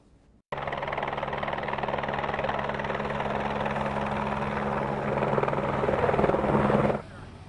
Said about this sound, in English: wide receiver Antonio Brown and his family arriving in Latrobe via helicopter